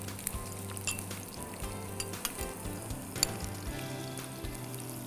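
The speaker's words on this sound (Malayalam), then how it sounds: "ഇപ്പം നമ്മൾ ഈ പാനിലേക്ക് ഒഴിച്ച എണ്ണ ചൂടായിട്ടുണ്ട്. അതിലേക്ക് പച്ചമുളക്, 2 വലിയ പച്ചമുളക് ചെറുതായിട്ട് അരിഞ്ഞത്," Two large chopped green chillies sizzling in hot oil in a pan, a dense continuous crackle and hiss with scattered pops, close and fairly loud, no voices.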